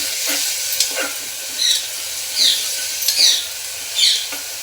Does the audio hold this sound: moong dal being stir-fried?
yes